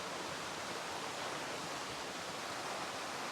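Flowing water of the Hobart Rivulet, a freshwater stream running toward the Derwent River, a steady broadband rush heard close and alone, continuous throughout.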